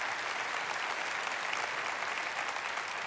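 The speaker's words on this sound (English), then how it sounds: "Lindsay, I would love if you guys clap for her" A church congregation claps for Lindsay Heslop at the Lafayette campus service, a steady, dense wash of applause held at an even level throughout with no voices standing out.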